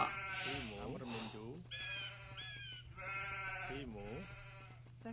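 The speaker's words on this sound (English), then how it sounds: "Okay, picking up the last two sheep. Sheep found, send them back to the town center." Sheep in the Age of Empires video game bleat repeatedly, several wavering calls close together, under steady game background sound and someone talking.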